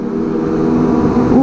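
A modified Kawasaki ZX25R motorcycle engine revs up close and loud on a night ride, its dense, steady growl climbing briefly over a short burst.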